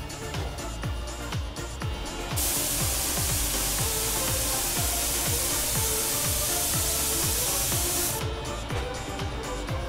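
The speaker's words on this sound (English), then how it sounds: "the parts are all sent through the spraying machine twice" A steady, loud hiss of a spraying machine painting Märklin model train housings runs throughout, strongest in the middle, over a busy mechanical clatter of rhythmic ticking machinery.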